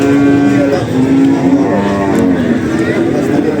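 Cattle lowing at a qurban livestock market, a sustained harmonic moo held for a few seconds amid loud, busy crowd noise and talk close by.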